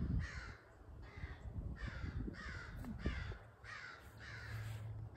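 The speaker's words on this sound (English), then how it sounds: "Sorry for the bird in the background." Crows caw repeatedly in a steady series of harsh calls, about seven in five seconds, over a low rumbling background.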